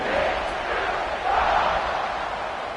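A football stadium crowd before kickoff keeps up a steady, loud roar of many voices, swelling slightly partway through, with commentary mixed in.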